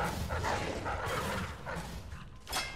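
A wolfhound in Dishonored 2 barks and yips several times over dense in-game background noise, moderately close.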